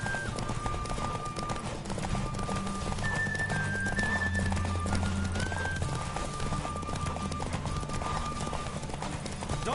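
Horse galloping in The Witcher 3: Wild Hunt, a steady clip-clop of hooves under continuous game music and ambience, with an occasional whinny, loud and close throughout.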